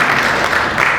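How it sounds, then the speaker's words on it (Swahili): Brief applause from an audience at a pension scheme annual general meeting, a steady wash of clapping across the full second. "Tunajaribu hata tunapigia makofi kidogo."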